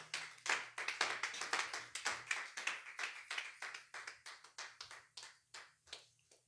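A church congregation claps together in acclamation of the Lord, a steady run of sharp, fairly close hand claps in a quick, even rhythm, with no talking.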